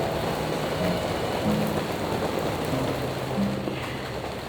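Rain falls on a tent in a dense, even hiss, close and unbroken, with faint tonal hints beneath the wash.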